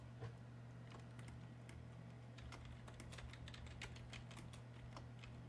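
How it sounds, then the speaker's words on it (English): Steady, fast keystrokes on a computer keyboard, close and fairly quiet, with a low steady hum underneath and no talking. "I'm going to type"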